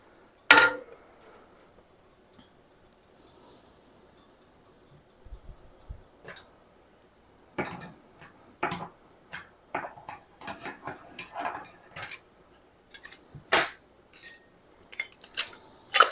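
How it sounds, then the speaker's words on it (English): Glass jars and metal lids handled while preparing pizza sauce for canning, sharp clinks and clatters scattered irregularly across the stretch with quiet gaps between, close and crisp. "Prep some more jars and some more lids."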